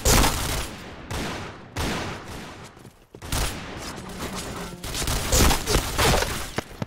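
In a shooter video game sparring match, loud, rapid bursts of automatic gunfire come in close, repeated volleys, with a short pause partway through before the firing resumes.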